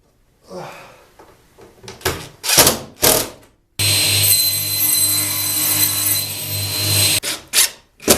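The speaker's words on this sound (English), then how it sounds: "I need to drill the holes, and I'm going to do it while it's upright" A few close wooden knocks and handling sounds lead into a power drill whirring steadily for about three seconds as it bores holes in an upright workbench. A couple more bumps follow.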